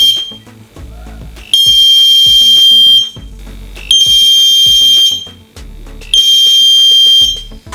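A homemade water tank overflow alarm buzzer sounds three times in loud, shrill electronic bursts of about a second and a half each, with short gaps and a low hum and faint background noise between them.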